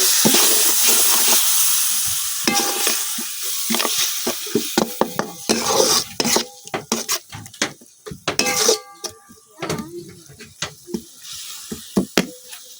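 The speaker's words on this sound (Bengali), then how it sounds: "মশলাটা যেন না পুড়ে যায় এই জন্য আমি অল্প একটু পানি দিয়ে দিতেছি" Spice masala with a little water added sizzles and hisses loudly in a hot pan, with scraping stirs and clinks of a utensil against the pot.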